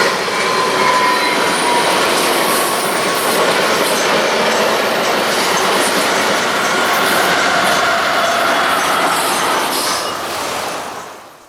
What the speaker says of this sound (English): Amtrak 517 with one of 2 remaining Talgo train sets left in revenue service.